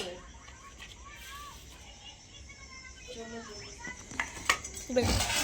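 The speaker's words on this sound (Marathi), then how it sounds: "आणि आता पप्पा अंडा फ्राय करणार आहे." Pans and utensils clink and clatter in a home kitchen as a father gets ready to fry an egg. Small metallic knocks come under a voice and adult talk, with a louder clatter near the end.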